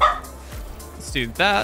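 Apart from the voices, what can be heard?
dog barking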